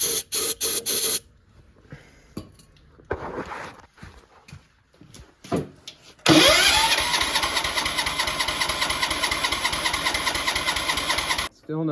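A John Deere 210 lawn tractor engine cranking on starting fluid: a loud, steady, rapid starter churn runs for about five seconds after several short bursts and clanks, without catching.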